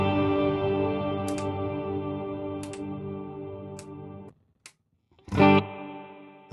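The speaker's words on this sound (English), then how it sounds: "deep space reverb." Sustained distorted electric guitar chords through a Fractal AX8, washed in a long, deep space reverb, then cut off into near silence before a loud strummed chord rings out.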